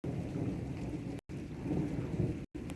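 A very violent morning thunderstorm with torrential rain and strong wind, a steady loud roar of downpour and rumbling thunder that fills the scene, broken by two brief silent cuts.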